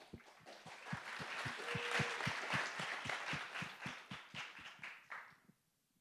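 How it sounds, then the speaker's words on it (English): A hackathon closing-ceremony audience applauds together in a broad, sustained wash of clapping with steady strong beats, fading out near the end. "I was going to say give another round of applause to Daniel and Jeremy"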